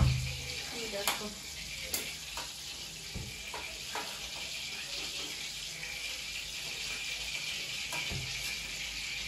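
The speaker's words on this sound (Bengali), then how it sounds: "আমার চিকেনগুলো ভাজা হয়ে গেছে, কিছুটা চিকেন ভাজা হয়েছে।" Chicken pieces frying in oil in a home kitchen pan: a steady, close sizzling hiss throughout, broken by a few sharp clicks and the clatter of utensils.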